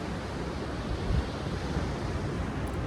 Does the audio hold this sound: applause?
no